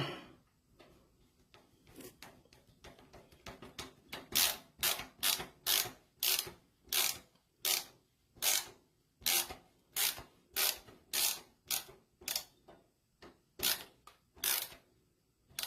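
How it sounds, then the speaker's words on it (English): A screwdriver tightening screws while fitting a graphics card into a PC: a rapid run of close, sharp ratcheting clicks, growing into steady rhythmic bursts, with no speech. "So I'm tightening in the graphics card"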